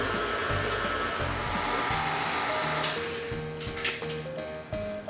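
Electric stand mixer with a paddle attachment creaming butter and sugar, a steady loud motor whir with shifting pitch as the speed is raised, running continuously without talk.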